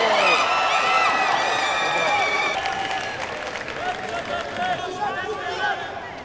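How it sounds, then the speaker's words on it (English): Spectators at a men's taekwondo final cheer and shout continuously for their athletes, a lively crowd roar with whistles and scattered clapping, fairly close, with a commentator's voice over it. "Supporters of each cheering their respective athletes on."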